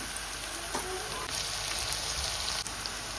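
Garlic and green chili sizzle in hot tempering oil for a prawn and dried fish thokku, a steady close crackling hiss with small pops throughout.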